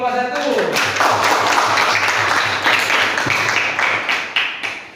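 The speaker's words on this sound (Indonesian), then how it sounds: "Ya, tepuk tangan dulu untuk kelompok 1." Classroom group applauding a student group, dense sustained clapping filling the room at moderate loudness, tapering slightly toward the end.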